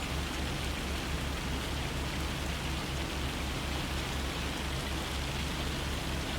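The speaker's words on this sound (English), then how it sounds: "Oh, it's not just the rain, it's hail too." Steady, dense rain and hail fall in a farming video game, a constant even roar with no pauses and no voices.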